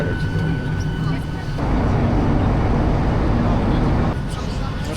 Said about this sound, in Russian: Ну что, взлетели удачно.